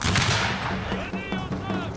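Artillery booms in a Total War: Shogun 2 battle, a dense run of loud, rumbling blasts one after another with a steady din of gunfire underneath, close and continuous.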